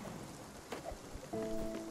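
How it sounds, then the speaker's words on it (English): Rain falling in the video game Spiritfarer, a steady wash of drops with a few soft taps, ahead of a lightning storm; a sustained tonal layer, likely game music, enters partway through. "let me plant seeds while it's raining"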